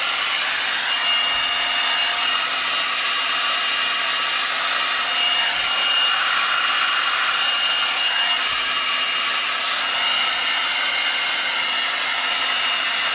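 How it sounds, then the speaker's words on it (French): A hair dryer blows steadily and loudly, a constant airy whir with no pauses from start to finish. "je vais utiliser mon sèche-cheveux pendant à peu près une dizaine de minutes"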